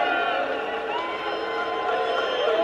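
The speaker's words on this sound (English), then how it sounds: "They're booing him." Large convention crowd at the Republican National Convention booing Mitch McConnell, a sustained roar of many voices filling the hall at moderate distance.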